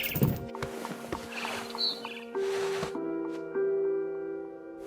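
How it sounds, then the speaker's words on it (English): Barn swallow chirping outside a window in the video game What Remains of Edith Finch, a few short bird calls over a steady tonal game music bed. "Then I heard chirping outside my window. It was a barn swallow going back to her nest."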